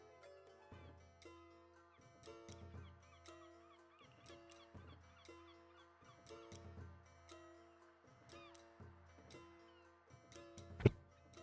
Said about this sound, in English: My birds are popping off.